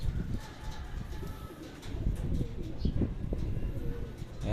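Racing pigeons coo repeatedly at the loft after a 92 km race, soft throaty calls coming close and steady with some chirps, while people talk in the background.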